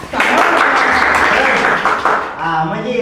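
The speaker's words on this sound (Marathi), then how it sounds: "टाळ्या वाजवा." Schoolchildren clapping in a classroom as a class minister is named, a short burst of group applause with voices talking over it.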